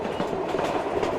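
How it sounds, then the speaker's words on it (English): An antique wooden train runs along the Mallorca railway toward the Serra de Tramuntana, giving a dense, steady rumble with faint rhythmic clatter of wheels on track, heard close up without voices. "Today we're riding the train to Sawyer, heading for the Serra Tramuntana mountain range."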